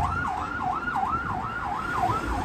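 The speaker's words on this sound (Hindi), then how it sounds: "एम्बुलेंस जा रही है" An ambulance siren wails on a city street in Baku, Azerbaijan, a loud rising and falling tone repeating about every half second over steady traffic rumble.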